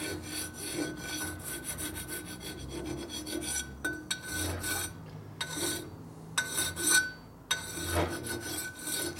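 A coarse hand file rasps across the cooling fins of a 1948 Harley-Davidson panhead 74ci engine case, repeated scraping strokes in an uneven rhythm with short pauses between, close and moderately loud, with no talking.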